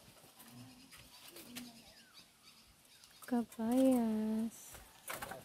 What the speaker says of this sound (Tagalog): may ibon. Parang kala mo kalapate pero ibon siya.